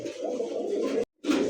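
A Master Bear pigeon coos in a steady, loud, close rolling call that stops briefly, then resumes.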